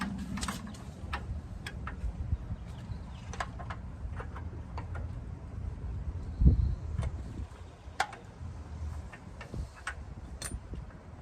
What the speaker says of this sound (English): now we're going to go ahead and tighten up the sway bar links.